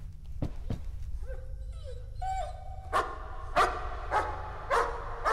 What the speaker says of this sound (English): Do we have a dog?